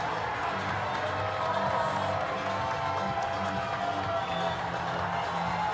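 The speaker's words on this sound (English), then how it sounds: "The crowd just going nuts." A crowd at a national bouldering championship final roars and cheers for the new champion, a dense, sustained wall of shouting and whooping with some clapping mixed in.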